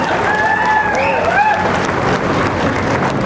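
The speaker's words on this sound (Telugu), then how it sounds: "ఒకసారి గట్టిగా బొమ్మ శ్రీరామ్ గారికి చప్పట్లతో అభినందనలు చెప్పాల్సిన సందర్భంగా కోరుతా ఉన్నాం" A crowd at a large Munnuru Kapu welcome rally in Karimnagar applauds Bomma Sriram Chakravarthy, a steady wash of clapping and crowd noise with faint whistling or calls over the top.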